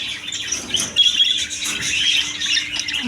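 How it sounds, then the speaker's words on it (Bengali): Budgerigars with their chicks chirp and twitter in a shop's bird room, a busy, continuous chorus of high, rapid calls from several birds close by. "এদিকে আছে বাচ্চা সহ বাজরিকা পাখি"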